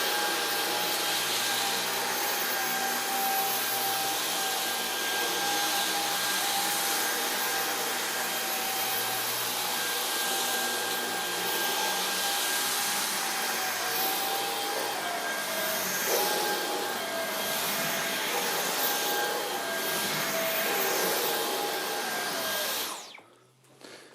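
Close, loud, steady roar of a Dyson cordless stick vacuum running on boost mode over a rug, a constant high whine with slight shifts as it is pushed, then a sudden cut-off as the motor winds down at the end.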